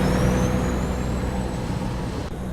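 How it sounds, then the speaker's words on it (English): A truck engine cruising on a highway in American Truck Simulator: a loud, steady diesel drone with a faint whine rising in pitch, heard close and alone without talk. "We can listen to the truck and see it."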